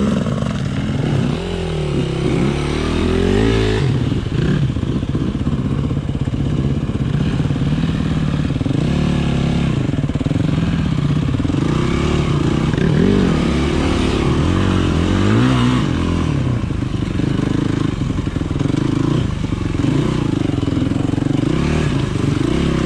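An enduro motorcycle rides a slippery dirt track, its engine loud and close throughout with constant rasping revs, shifting throttle and rattling clatter, and no voices.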